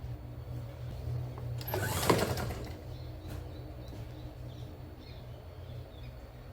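A sewing machine stitching a blouse dart runs as a faint, steady motor hum, with a brief louder rattle partway through and quiet surroundings.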